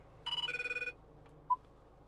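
A short electronic ringtone trills once inside a 2011 Range Rover Evoque, a quick pulsing burst under half a second long, followed by a faint single beep.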